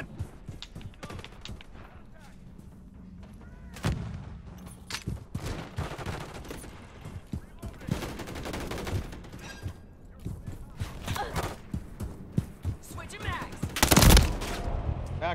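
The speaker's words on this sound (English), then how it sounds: "Well, my turret is going off up here" An automatic turret in Call of Duty MW3 fires on its own in repeated rapid bursts amid scattered game gunfire, with one sharp loud blast near the end.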